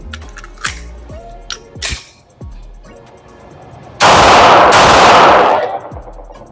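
Glock 48 MOS pistol firing with a Shield Arms S15 magazine: a few sharp, scattered shots early on, then a loud, dense burst of sustained noise lasting nearly two seconds before the sound drops away.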